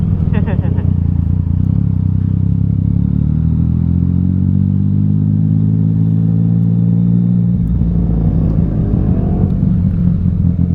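A motorcycle pulls away on a ride through the Polish mountains, its loud, close engine drone rising steadily in pitch as it accelerates, with a voice heard briefly near the start.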